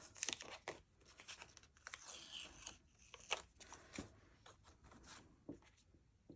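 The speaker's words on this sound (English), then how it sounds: "Oh, take my tape off." Close, quiet tearing and crinkling as tape is peeled off a handmade card, coming in several short rips and rustles with brief pauses between them.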